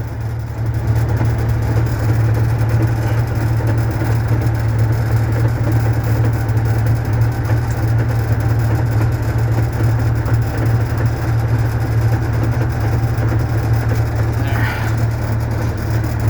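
An Allis-Chalmers 7050 tractor engine idles while it warms up outdoors in March snow, giving a steady, close, low rumble that holds unchanged from start to finish.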